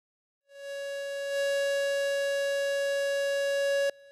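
A memorial siren sounds at Jeju 4.3 Peace Park on a foggy, rainy day, one steady sustained tone that holds loud and even before cutting off abruptly.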